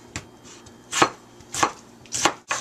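A knife chops through a fresh tomato on a board in five sharp, evenly spaced strikes, each a crisp close thud with a wet crunch and no voices.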